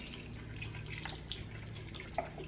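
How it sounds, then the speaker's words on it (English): Chicken and beef broth is poured into a cooking pot at home, making a faint, continuous liquid trickle and splash with a few soft drips, close but quiet. "Pour that in."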